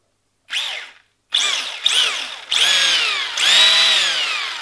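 Drivetrain of a Tamiya TT-01E RC car with a bent, wobbling prop shaft whirs in four or five close bursts, each a rising then falling high-pitched whine, separated by short silences.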